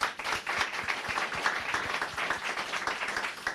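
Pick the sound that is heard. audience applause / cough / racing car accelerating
audience applause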